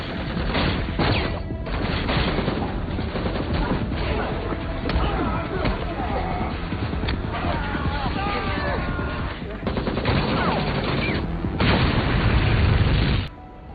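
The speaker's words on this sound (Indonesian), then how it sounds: "Namun Mike akhirnya ditembak oleh orang yang tak dikenal, yang ternyata adalah tentara bayaran" Gunfire and heavy impacts from a film fight scene against hired mercenaries, loud and dense, running almost continuously as a broadband clatter with bursts and booms throughout.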